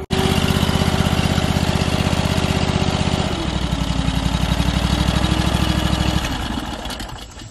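Small two-stroke chainsaw engine running steadily at a loud, close buzz, with a slight drop in pitch partway through before winding down at the end.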